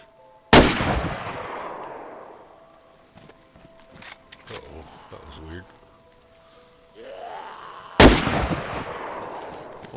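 Two sharp, loud gunshot cracks in the survival video game DayZ, one near the start and one near the end, each followed by a long decaying echo, with quieter scattered in-game sounds between them.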